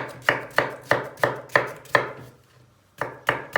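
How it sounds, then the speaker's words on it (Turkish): Sharp, evenly spaced knife chops on onions on a cutting board, six in a steady rhythm, a brief pause, then two more, close and clear. "Soğanlarımızı ince doğrayacağız."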